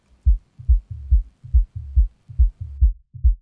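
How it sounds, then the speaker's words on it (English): A deep, soft-edged kick drum thumps alone in a steady syncopated pattern, with about nine low, boomy hits in quick succession and nothing else around them. "What we have here basically is we have our kick drum"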